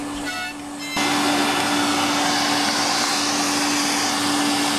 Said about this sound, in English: We're trying to get the vacuum cleaner to play a mouth organ.